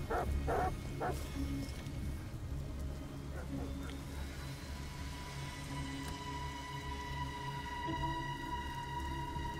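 Dogs barking in the video game Detroit: Become Human, a few sharp barks early on, then a quieter stretch over game ambience and music, with someone talking throughout.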